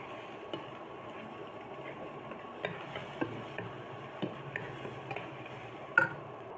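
Thirteen eggs with salt being fried and broken into small pieces in a pan, with a faint continuous sizzle and a scattering of light spatula taps and scrapes.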